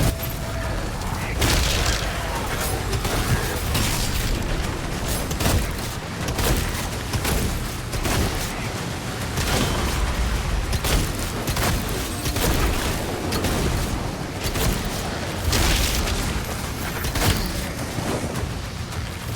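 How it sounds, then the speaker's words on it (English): Cannon fire in Doom: The Dark Ages, heavy booming blasts repeating irregularly through dense, loud combat noise with mechanical clanks throughout. "Oh, it's a cannon over there."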